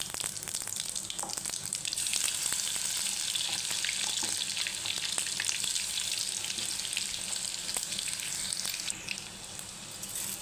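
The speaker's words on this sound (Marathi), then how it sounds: "आपलं तेल गरम झालेलं आहे। मोहऱ्या, जिरे टाकून घेणार आहे आणि आपण वाटून घेतलेला लसूण अद्रक पेस्ट" Mustard seeds, cumin and garlic-ginger paste sizzle steadily in hot oil for a bottle gourd curry, a loud, continuous crackling hiss with faint splashes, with no voices over it.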